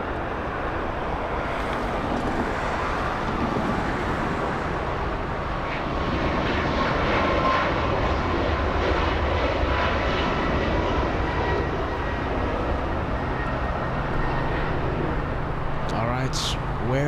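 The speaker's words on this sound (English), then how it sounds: "We have an arrival happening in just I think just about 1 minute from now." An airplane arriving at LAX roars steadily overhead, a loud, broad engine rumble and jet whine that swells and holds for many seconds at a busy airport, with a voice talking over it.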